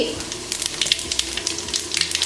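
Chicken pieces coated in spices fry in a hot pan at home, a steady close sizzle with crackling pops and a few stirring scrapes, no talking.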